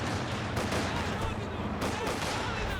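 Quad anti-aircraft halftrack machine gun fire in a Company of Heroes 2 2v2 battle, a dense continuous roar of rapid shots with broadband crackle lasting the whole stretch, mixed with other battle noise.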